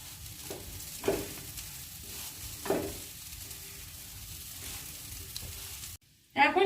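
Broken wheat with ground black pepper is stirred in a hot pan, giving a soft, steady sizzle with two or three clear scrapes of the spoon and a louder clatter at the end.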